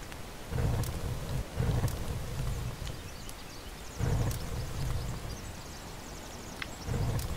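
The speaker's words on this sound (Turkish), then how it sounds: "Yağmur başlasın." Steady rain hisses throughout while low thunder rumbles roll in several times in the video game The Forest, each swelling and fading, with no voices.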